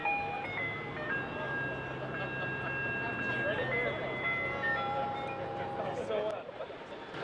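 Ice cream truck jingle from a modified car selling ice cream out the back, a bright tinkling melody played continuously and fairly loud, with people talking over it.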